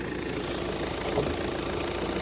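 A Volvo XC D4 diesel engine idles steadily with an even, low rumble, close and continuous, with no other sounds.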